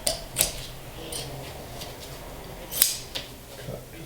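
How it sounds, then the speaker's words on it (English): Scissors snipping upholstery fabric on an ottoman, with a few sharp, separated cuts standing out close by over a faint steady background. "Cut just a little bit more."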